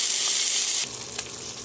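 A spoonful of ginger paste hits hot oil, already sizzling after bay leaves, and the loud, hissing fry shifts abruptly midway as the paste goes in, then settles into a steady crackle with a light stir.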